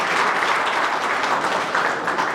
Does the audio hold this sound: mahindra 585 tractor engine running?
no